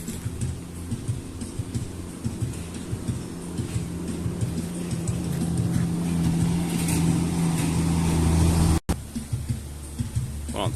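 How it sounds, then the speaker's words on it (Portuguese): A car passes on the street, its engine and tyre rumble swelling steadily as it approaches and peaking loud near the end before an abrupt cut. "Deixa só esse carro passar aqui, viu?"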